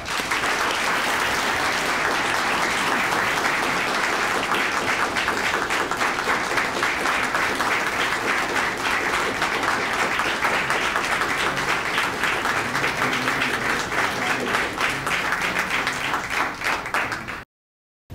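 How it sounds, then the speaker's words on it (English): Long, loud round of audience applause at a police award ceremony for officers receiving valor and life-saving awards, sustained dense clapping from many hands that holds steady for over fifteen seconds before stopping abruptly. "let's give them a loud round of applause"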